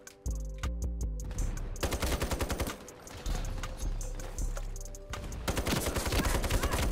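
Rapid bursts of SG553 rifle fire in the shooter game Ironsight, loud and dense, with repeated volleys over several seconds and short gaps between strings of shots, alone without talk.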